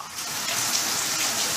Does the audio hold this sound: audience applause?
no